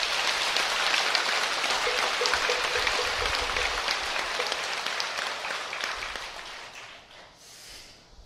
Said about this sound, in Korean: 이 설정 스님께 박수 한번 올려야 되겠습니다.